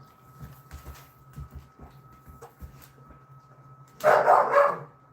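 A dog barks in a sharp, loud burst near the end inside a house, after quieter scattered thumps and shuffling.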